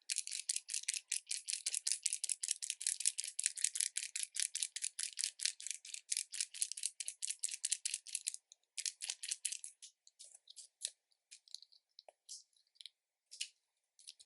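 Inexpensive eyeliner pens shaken rapidly up close, giving a fast, crisp rattling click repeated steadily for several seconds, then breaking into sparser, uneven shakes and a few isolated clicks, with no talking.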